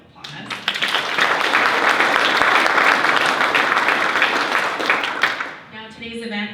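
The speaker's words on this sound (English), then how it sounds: "So one more round of applause." Audience at an economic outlook and housing forum breaks into strong applause: a full wash of clapping swells quickly, holds loud for several seconds, then fades as a voice returns briefly.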